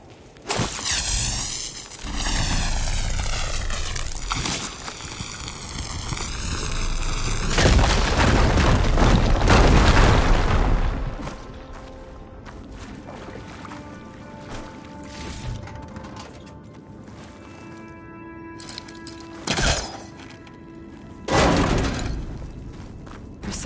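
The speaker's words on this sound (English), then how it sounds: "Should be able to blow up that fire gleam." A firegleam deposit blown apart in Horizon Forbidden West: a loud, sustained booming blast with rumbling debris lasting several seconds, followed by quieter scattered thuds and a couple of later impacts in an echoing cave.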